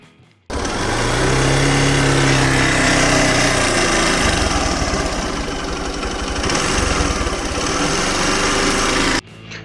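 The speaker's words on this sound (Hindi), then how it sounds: "तो ये इंजन नॉइज़ आपने सुनी" Hero Xpulse 200 motorcycle engine idling steadily and loudly close by, its valve tappets giving off a continuous fast ticking under the engine drone, with a brief rev change midway before cutting off.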